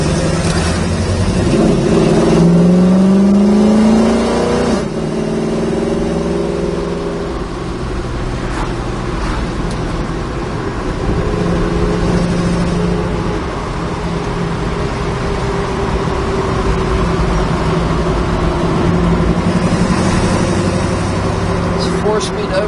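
A 1968 Chevrolet Camaro RS with a four-speed overdrive automatic rolls down the road, its engine a steady, loud rumble that rises briefly early on, with someone talking over it throughout.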